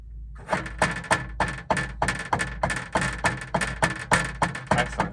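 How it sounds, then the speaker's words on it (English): Forte double strokes played with sticks on a drum practice pad: loud, crisp paired taps repeating in an even, steady rhythm, close and dry with no talking. "Can you try playing some forte double strokes?"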